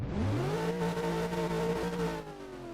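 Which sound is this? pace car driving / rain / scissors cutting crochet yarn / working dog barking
pace car driving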